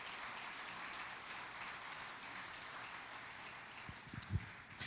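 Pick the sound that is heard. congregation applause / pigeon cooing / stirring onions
congregation applause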